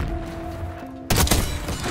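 A single sharp, loud sniper shot from Call of Duty Black Ops 6 bursts in after a tonal hum of game sound, followed by a second crack close behind it.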